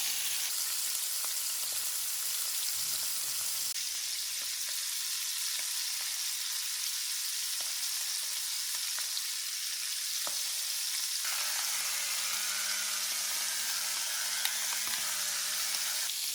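Scallops sear in a hot pan for seafood dinner, giving a steady, even sizzle and crackle that runs on alone without talk, with a faint low hum joining partway through.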